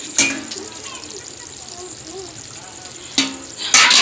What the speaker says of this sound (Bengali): আর এদিকে মাংসের তরকারিটা বসিয়ে দিয়েছি, এতক্ষণ ধরে মাংসই রান্না করছিলাম।